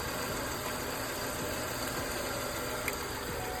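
A Honda Integra engine idles steadily during a fuel injector check, a continuous close mechanical hum with a faint ticking texture and no voices.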